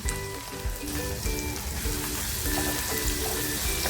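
Chopped onion sizzles and sputters in hot oil in a pan for karandi masala, a steady dense crackle close by with faint stirring scrapes and no talk.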